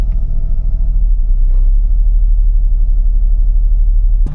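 A Mercedes SL R230 with 182K miles and freshly serviced transmission fluid idles with a steady, deep, close rumble as the gearbox is shifted from neutral into drive.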